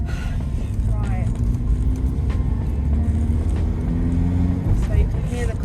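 A Toyota Yaris 1.3 petrol manual car cruises at 30 mph, its steady low engine and road hum running throughout while someone talks over it.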